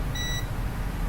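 Short continuity beep from a multimeter as its probe touches a point on a mobile phone circuit board during repair, a faint high tone lasting well under a second over steady low background hum.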